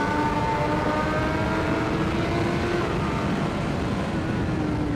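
A motorcycle on the New Jersey Motorsports Park race track accelerates with a steady, loud engine drone and rising tonal whine, continuous and close throughout.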